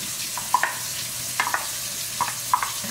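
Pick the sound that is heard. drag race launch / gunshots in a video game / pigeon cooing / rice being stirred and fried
rice being stirred and fried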